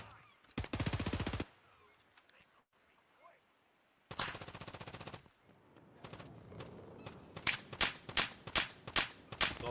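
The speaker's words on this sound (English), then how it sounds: "Oh, nice shots from Nuclear." Automatic gunfire in the Escape from Tarkov shooter during a tournament final, with two long sustained bursts, then a rapid string of short punchy shots. Commentators talk between the bursts.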